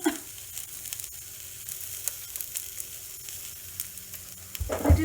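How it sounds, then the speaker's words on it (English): Eggplant roasts in a pan over high flame for baigan bhaja. A continuous, moderate sizzle runs with scattered crackles and a few light stirring taps, then a louder scrape and clatter comes right at the end. "So in this high flame, let me roast for 2 minutes."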